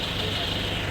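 A Kawama 155NewPlus hand-crank diesel engine runs at a steady idle, a constant rough mechanical drone with a faint knocking pulse, close and continuous for the whole second.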